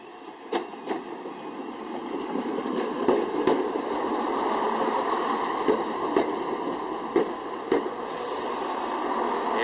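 Loco-hauled TransPennine passenger train running, heard from inside as a steady rolling rumble with faint rhythmic clicks of wheels over rail joints, moderately quiet and even.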